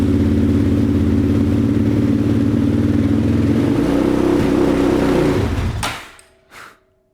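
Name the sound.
Yamaha Raptor ATV engine revving and shutting off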